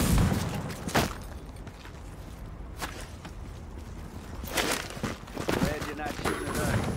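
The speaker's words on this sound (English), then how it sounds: "Suppressive fire." Suppressive gunfire in the online multiplayer shooter Tom Clancy's The Division, with scattered bursts and sharp shots at middling distance, mixed with game noise and a voice talking over it.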